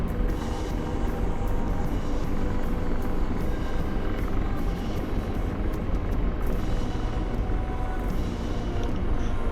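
Apache helicopter in flight during a video game set in Afghanistan, its rotor and engine drone steady and continuous throughout, loud and close with no pauses.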